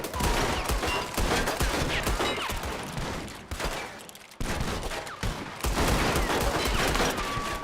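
Gunfire in Red Dead Redemption 2: dense, loud, near-continuous volleys of shots across several seconds with a brief lull partway through, a heavy fusillade with no talk over it.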